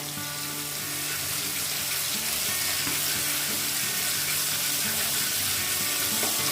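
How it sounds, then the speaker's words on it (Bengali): Mustard oil sizzles and fries steadily in a pan while a bottle gourd and prawn curry is cooked, a dense, continuous crackling hiss that stays loud and close throughout. "আর একটু সর্ষের তেল দিচ্ছি।"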